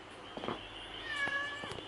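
A cat meows a few times, close by and fairly soft, with short drawn-out cries.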